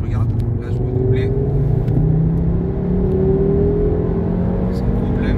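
An Audi RS3 Stage 1 with its turbo on boost accelerates hard to overtake, a loud, continuous in-cabin engine drone whose tone climbs steadily as revs rise.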